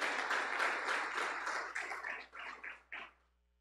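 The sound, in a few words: congregation applauding in church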